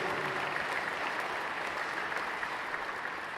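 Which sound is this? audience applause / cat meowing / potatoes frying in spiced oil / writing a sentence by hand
audience applause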